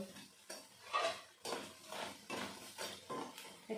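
Crispy red lentil fritters (musur daler bora) lifted from a pan, giving a series of sharp crunchy scrapes and clinks against metal roughly every half second, close and fairly loud with no talking.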